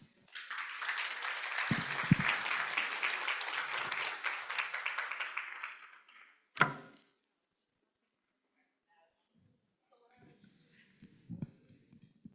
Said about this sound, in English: Another round of applause for such a thought-provoking discussion